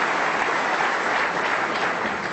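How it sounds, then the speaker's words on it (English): Steady, dense applause from the audience at the 2012 World Snooker Championship final between Carter and O'Sullivan, a loud, continuous roar of clapping through the whole stretch. "Nice round of applause from Peter Ebden"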